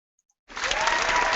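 A short burst of canned applause sound effect starts abruptly after a brief silence and continues steadily, full and fairly loud, with no talk over it.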